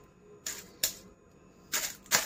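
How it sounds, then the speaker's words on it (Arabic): A thin knife pokes slits into an oven roasting bag holding a beef shank with vegetables, giving four crisp, close plastic punctures in two pairs over quiet background. "هبتدي ان انا افتح في الكيس بالسكينه الرفيعه كده كام فتحه في الكيس"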